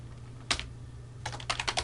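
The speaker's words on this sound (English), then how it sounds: "And so we can type Netcat" Typing on a computer keyboard while entering a Netcat command: a single quick burst of keystrokes, then a pause and a faster run of clicks, heard close and alone over a steady low hum.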